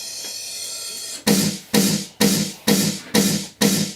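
Snare-like electronic effect hit processed with a sound codizer for a more aggressive tone, six sharp bright bursts repeating in an even rhythm after a quiet start, loud and alone.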